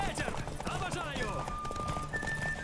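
Hooves clip-clop rapidly as a horse gallops in The Witcher 3 video game, close and steady, with someone talking over it and whistling tones sliding through.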